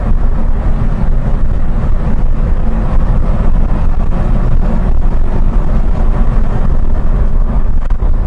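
A Lotus sports car at the end of its running-in period is pushed past 5000 rpm, a loud, continuous engine roar mixed with heavy wind buffeting on the microphone.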